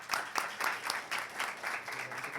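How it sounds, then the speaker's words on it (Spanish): Audience applause at a STEM expo stage event, a steady patter of clapping hands that rises and holds at moderate loudness for a couple of seconds, with no talk over it. "Un aplauso."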